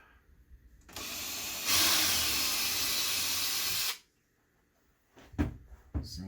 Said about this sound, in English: So I'm going to drill a little pilot hole right here.